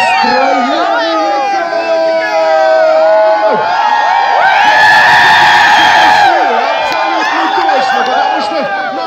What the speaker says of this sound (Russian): И ваши аплодисменты, ваш шум и гомон новогодний